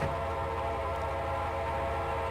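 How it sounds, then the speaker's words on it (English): A Norfolk Southern coal train in the railroad simulator Trainz pulls off a branch line. A steady, dense rumble of rolling cars with a tonal whine runs throughout at moderate loudness, with no voices. "A Norfolk Southern coal train, while everything is being built down below, is seen coming off the branch."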